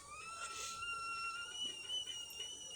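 A kettle boiling on a stove gives a sustained high whistle that wavers slightly in pitch, moderately loud and close, with no one talking.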